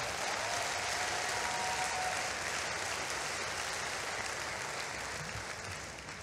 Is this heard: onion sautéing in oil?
no